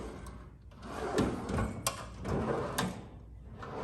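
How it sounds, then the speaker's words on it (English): Drawers on a VIM tool roll cart slide open and shut several times in a row, giving close, rumbling metal runs with small clicks at the stops and no talking. "When you close the lid down, it locks your drawers so they don't pull out, but you got two nice drawers on top."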